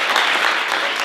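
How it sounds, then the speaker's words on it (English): An audience bursts into applause, a brief, loud wash of many hands clapping together with a faint crowd murmur underneath. "Give them a round of applause."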